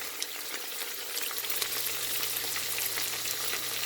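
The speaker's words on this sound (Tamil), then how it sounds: "நல்லா வதங்கி கொண்டு வரட்டும்" Whole spices with bay and other leaves sautéing in hot oil for crab biryani, a steady close crackling sizzle with faint stirring throughout, no voices.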